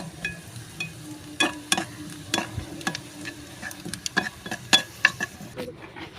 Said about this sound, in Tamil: வெங்காயம் நல்லா ப்ரௌன் கலரில் லைட்டாக வர மாதிரி வதக்கணும்